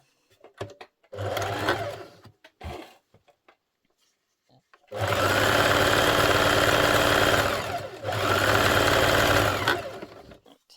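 A sewing machine stitching jetting to pocket lining on a jetted pocket, two loud sustained runs of rapid needle hammering separated by pauses, with short clicks and handling sounds between, close by.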